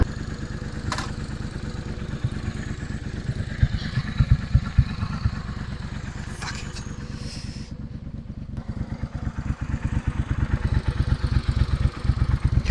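A Triumph Bonneville Bobber with added boost, an aftermarket exhaust and a tuned ECU rides on a wet road, its engine a steady close rumble with rattling pulses and faint passing sounds.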